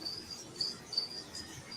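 Crickets chirping in repeated high, thin pulses over a quiet background, fairly faint and steady, with no voices.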